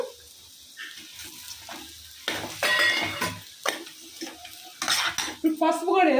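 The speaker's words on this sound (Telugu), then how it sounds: "ఇప్పుడు మునక్కాయలు వేసుకుంటున్నాను" Drumstick pieces are tipped into a pan of onion curry. Sharp metallic clinks and clatters of utensils and pan come in uneven bursts over a faint sizzle.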